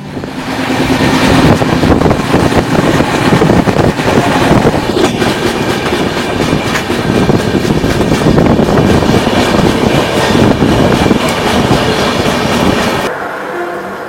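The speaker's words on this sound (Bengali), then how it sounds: "ট্রেন যখন ছুটে চলে আপন গতিতে" Mithila Express passenger train on the Howrah to Raxaul route runs steadily along the rails with loud continuous rumble and rhythmic clickety-clack of the wheels, heard close from onboard with no talk, easing slightly near the end.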